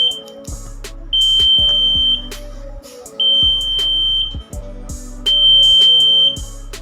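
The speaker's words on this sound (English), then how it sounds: "1 second buzzer will on and 1 second will off" A loud, steady electronic beep from an Arduino smart blind stick's water sensor buzzer sounds for about a second, stops, then repeats in a regular on-off cycle three times over a droning hum.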